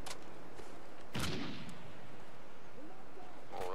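Gunfire during a Call of Duty Ghosts Domination match: a few loud, sharp shots spaced apart, each followed by a brief rumbling tail, over low game ambience.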